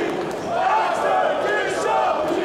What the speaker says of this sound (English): Dueling chants here in Oberhausen.